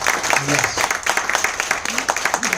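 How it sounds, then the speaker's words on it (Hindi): Crowd applause at a training seminar, rapid rhythmic clapping from a room of people, loud and close, with a voice briefly calling out over it. "वाह वाह, तालियां हो जाए।"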